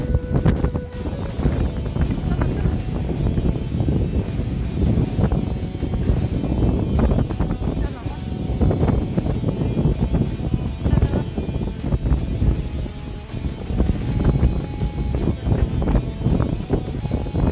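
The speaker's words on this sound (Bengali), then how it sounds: "এই যে ঝড়ো হাওয়া" Stormy wind gusts outdoors on a rainy summer day in rural Bangladesh, producing a loud, continuous rumbling buffet against the microphone with surging bursts and no clear speech.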